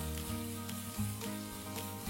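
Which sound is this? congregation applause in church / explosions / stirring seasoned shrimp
stirring seasoned shrimp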